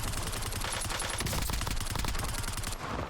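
Rapid automatic gunfire in a Black Ops 7 multiplayer match, a dense sustained burst of shots that is loud and continuous throughout, with no voice over it.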